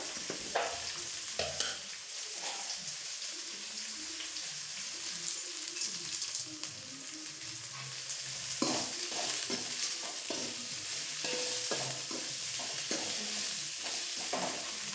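Dried red chilies sauté in a hot pan for a chutney, giving a steady close sizzle with frequent scraping stirs of a spatula throughout and no talking.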